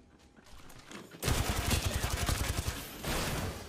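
A sudden, loud machine-gun burst strikes the player in Apex Legends, breaking in after a quieter stretch and rattling on in a dense barrage with a short swell near the end.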